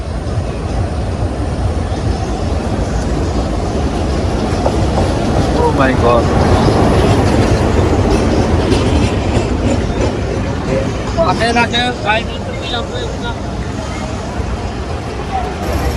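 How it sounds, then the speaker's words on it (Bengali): A passenger train pulls into a busy station on rails, arriving from Bhanga. It sounds as a loud, steady rumble with a crowd murmuring and people talking nearby. "এই ট্রেন চলে আসছে ভাঙা থেকে"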